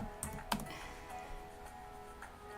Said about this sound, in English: Typing in a dark room is hard, Willie says.